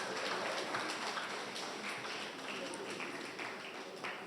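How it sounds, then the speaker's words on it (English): Sustained audience applause at a courthouse ceremony, a steady dense wash of many hands clapping at moderate distance for several seconds without letup. "he deserves yet another resounding applause"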